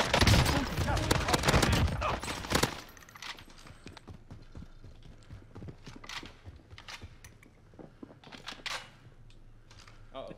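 Gunfire in Call of Duty Warzone on Rebirth Island with an MP5, starting as a dense, loud burst of rapid shots, then dropping to scattered quieter shots and clicks under occasional talk.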